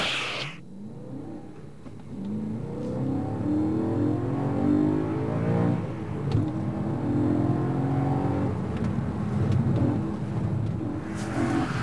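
A BMW M3 engine revs hard through a slalom run, rising and falling in pitch as the car accelerates and lifts between cones, heard steadily from a distance for the whole run.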